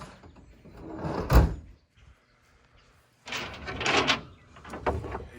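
The sliding door of an old barn-find VW Bus Transporter is slammed shut with a loud solid thud and rattle, then after a quiet pause comes a second longer bout of clunking and scraping from the stiff door.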